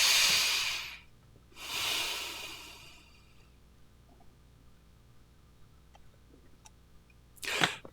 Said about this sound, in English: I take a deep breath. Inhale slowly. Inhale and let it out slowly.